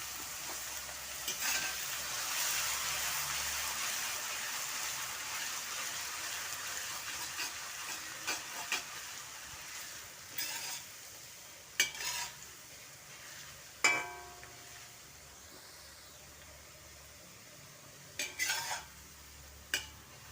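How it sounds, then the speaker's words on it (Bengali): Small batches of potatoes frying in oil for crispy Bengali jhuri aloo bhaja, a steady broadband sizzle with occasional clinks and scrapes of a spatula against the pan. "অল্প অল্প আলু দেবো আর ভেজে নেব।"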